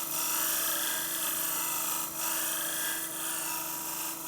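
A woodworking refinement tool is drawn back and forth across a flat wooden surface, producing a continuous close rasping, scraping hiss with slight dips at each change of stroke direction.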